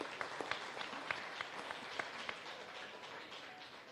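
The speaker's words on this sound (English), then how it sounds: "Let's give a round of applause to Professor Benjamin." Faint, distant applause from a panel audience for Professor Benjamin at a science and innovation forum, a soft continuous patter with a few sharper claps standing out.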